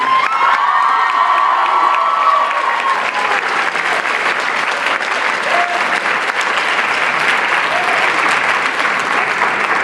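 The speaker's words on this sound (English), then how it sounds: "The band, let's give our parents a round of applause." A loud, sustained round of applause and cheering for the parents at a marching band varsity show, with a large crowd clapping, whoops and children shouting over dense clapping throughout.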